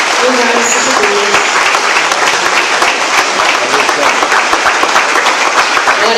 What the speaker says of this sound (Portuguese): Te convido a aplaudir o nome do Senhor.